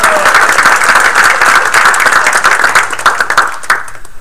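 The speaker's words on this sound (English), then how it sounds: "Nice round of applause, please, for Gail again." Audience applause at a township council meeting, a steady roomful of clapping hands that stays loud throughout and thins slightly toward the end.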